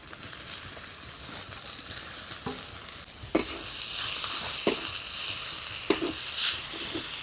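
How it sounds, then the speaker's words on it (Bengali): Salted radish greens, squeezed of water, sizzle and hiss in fish oil in a pan. A spoon stirs them now and then, giving sharp scraping clatters over the steady frying. "ঢাকনা দিয়ে কিছুক্ষণ শাকটাকে নেড়েচেড়ে ভেজে নেব।"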